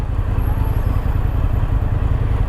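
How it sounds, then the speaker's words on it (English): An Indian FTR 1200S V-twin motorcycle idles through its stock baffled exhaust with a steady, deep, throbbing rumble. The tone is low and even and not especially loud, heard up close with no voices. "Yeah, this exhaust it's a good tone, but it's not loud"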